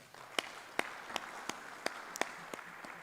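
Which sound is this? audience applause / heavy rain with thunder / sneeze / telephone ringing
audience applause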